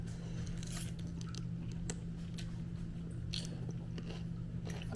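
Someone chewing a mouthful of sheepshead fish pho with crunchy peas, mushrooms and bok choy, giving soft, close bites and squishes over a steady low background hum, with no talking.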